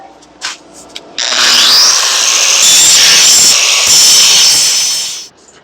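An angle grinder bites into metal on a busted brush hog, a loud, harsh, close scream that starts after a couple of light taps and holds steady for about four seconds before cutting off.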